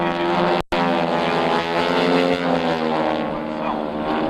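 Propeller engine of a Red Baron Squadron Stearman biplane at an air show: a loud, steady droning engine roar with a brief dropout near the start, and the level eases slightly toward the end.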